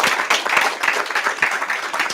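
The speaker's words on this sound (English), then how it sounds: "give them a big round of applause, guys." A short, brisk burst of applause from the audience at an energy investment panel discussion, made up of close, fairly loud overlapping claps that keep up steadily with no speech over them.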